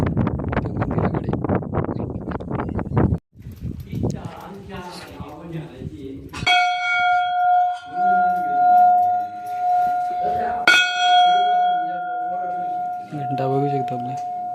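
Temple bell at the Bhairavnath fort temple in Maharashtra, struck twice with a long ringing tone that lingers, following wind noise and under people talking.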